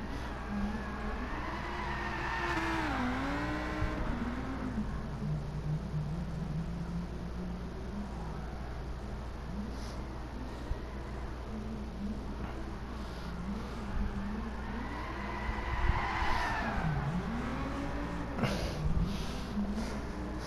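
Lamborghini Huracan Gr3 racing car with 500-plus horsepower drifting in Gran Turismo Sport, engine rising and falling in repeated revving sweeps with tire squeal, steady and moderately loud, without talk.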